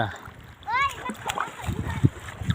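Water splashing from people swimming in a reservoir in Yasothon, Thailand: a few irregular splashes and sloshes close by. A bird-like whistle and people's voices can be heard around them.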